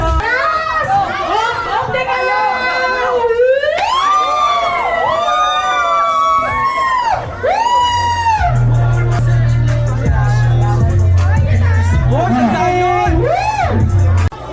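A crowd at a street fiesta in Tondo shouting and cheering loudly, with many voices rising and falling in excited whoops and wails. Near-constant yelling continues throughout, with a low rumbling drone entering partway through.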